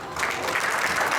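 Loud, dense applause from an audience at a Tamil New Year 2015 poetry recital in Changwon, a steady burst of many hands clapping close together with no voices.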